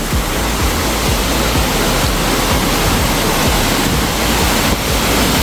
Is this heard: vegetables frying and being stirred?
no